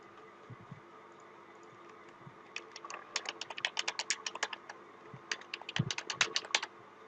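Password being typed on a computer keyboard, a fast run of crisp key clicks in two bursts over a low room hum, close and alone with no talk.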